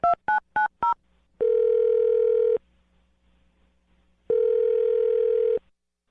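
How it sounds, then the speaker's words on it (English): A telephone keypad gives four quick touch-tone beeps while a call is dialed, then two long, steady ringing tones follow with a silent gap between them. "I'm going to dial her phone number right now"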